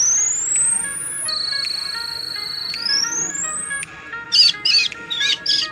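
Small birds at a bird feeder on a farm and orchard chirp in quick bursts of high tweets near the end, following sweeping electronic-sounding tones, with faint background noise throughout.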